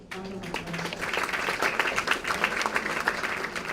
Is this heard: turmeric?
no